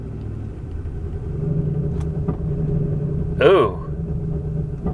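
A car engine low on fuel idles roughly with a low, uneven rumble, while a person briefly exclaims over it.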